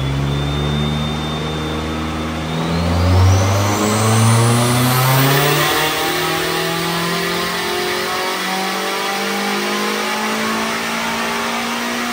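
A built turbocharged 3SGE engine on a dyno pull, revving hard with a climbing tone and rising turbo whine, peaking loud before settling into a sustained high drone.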